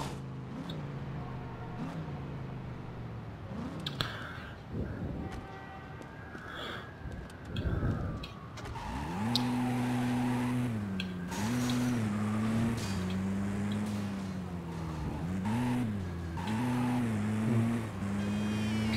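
A car drives in the video game Driver: Parallel Lines, its engine droning and shifting pitch as it revs up and down through several gear changes, with mechanical clunks and a wavering tone, fairly close and steady.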